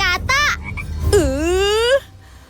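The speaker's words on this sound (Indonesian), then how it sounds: "Bagaimana dengan katak?" A frog croaks in two loud, close calls: a short burst, then a longer rising and falling croak, followed by near silence.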